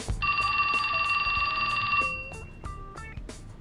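A cell phone rings with a steady electronic trill for about two seconds in the video game 428: Shibuya Scramble, followed by a few short beeps, with no talking.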